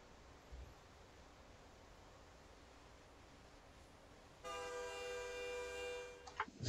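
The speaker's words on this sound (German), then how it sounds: "Der Zug ist auch unterwegs." A train in American Truck Simulator rolls past, its horn sounding loud and sustained in the second half after a stretch of steady low engine rumble, with a few sharp clanks near the end.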